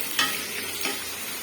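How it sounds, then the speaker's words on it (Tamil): Garlic sautéing in a pan, a brief close sizzle with a couple of light stirring scrapes and no voices. "பூண்டு போட்டு வதக்கிக்கலாங்க."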